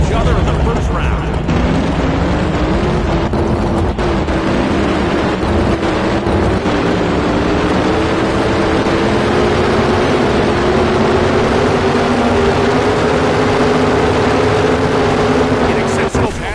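NHRA drag racing cars roar down the strip, a loud sustained engine blast with a rising pitch that holds for the whole stretch, and an announcer's voice can be heard over it.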